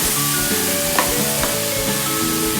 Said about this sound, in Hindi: अब हम कोकोनट पेस्ट डालेंगे